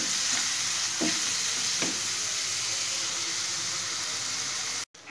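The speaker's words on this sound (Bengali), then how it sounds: "পেঁয়াজ ভাজা হয়ে গেছে" Onions fry in a pan with a little salt, the base for an egg and cauliflower curry, giving a steady, close hiss of sizzling oil with a few soft stirring knocks and a brief dropout near the end.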